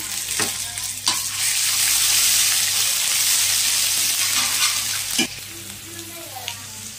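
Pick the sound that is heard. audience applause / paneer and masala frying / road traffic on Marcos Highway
paneer and masala frying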